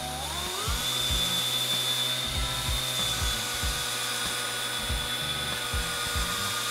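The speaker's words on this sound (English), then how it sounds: "So let's go ahead and sand this down a little bit" A high-pitched rotary sander or power tool whines steadily while sanding down a tire tread, with the pitch rising at the start and then holding, close and fairly loud.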